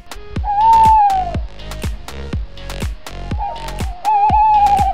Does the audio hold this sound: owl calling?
yes